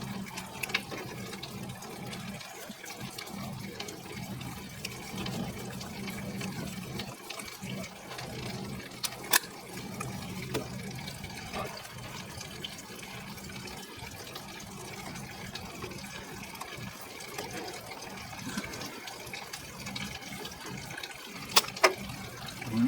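Coolant drains from a Jeep Grand Cherokee radiator in a faint steady trickle and splash, with occasional small clicks and distant low noise over the long stretch.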